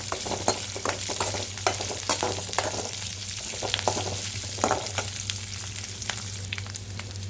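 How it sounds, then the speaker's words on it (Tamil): Onions sauté in a pan for drumstick leaf chutney, making a constant close sizzle broken by repeated scraping stirs of a spoon against the pan, with no talking. "இதையும் நல்லா வதக்கிக்கோங்க வெங்காயம் வந்து நல்லா செவந்து வரணும்"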